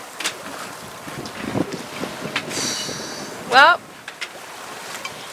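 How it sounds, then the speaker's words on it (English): Squall wind at sea rushes and buffets around a sailboat in the Caribbean as a steady, gusting roar with microphone wind noise and brief creaks, while a voice speaks briefly. "I don't want any more squalls, please."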